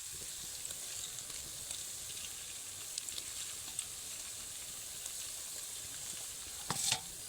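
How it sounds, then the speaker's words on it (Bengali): Semolina gulab jamun balls fry in oil over low heat, giving an even, gentle sizzle throughout, with a brief clatter of utensils just before the end. "একদম লো আঁচে এগুলোকে ভাজতে হবে"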